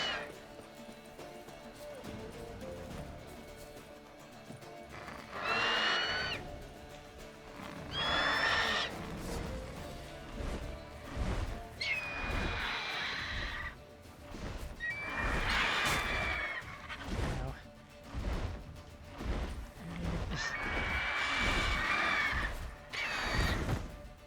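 Loud repeated horse whinnies ring out in Witcher 3 over a rumbling game soundscape, several distinct neighs spread across the stretch with thudding hoofbeats and crashing effects between them, a voice speaking faintly at times.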